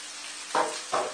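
Chopped onion tipped into vegetables already frying in a hot wok, giving two quick bursts of sizzling over a steady background hiss.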